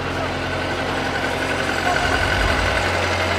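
A combine harvester idles in a farm field in Iran, giving a steady, low engine rumble with a constant hum that holds at the same level throughout.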